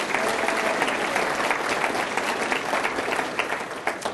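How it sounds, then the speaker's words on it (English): A full round of audience applause at a city event honoring Brentwood Elementary students, sustained and even for four seconds and tapering slightly toward the end, with no speech over it. "so give them a round of applause"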